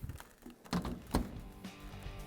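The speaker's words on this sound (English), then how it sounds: "And now we can close the door." Door of a Samsung dryer being swung shut, two soft, close thuds over a low room background.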